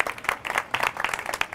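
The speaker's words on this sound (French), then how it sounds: "Je vais vous demander en fait d'applaudir vraiment chaleureusement donc Guy Gillard" An audience at a CreativeMornings talk in Montreal applauds speaker Guy Giard, a dense burst of many hands clapping together, close and sustained for the whole moment.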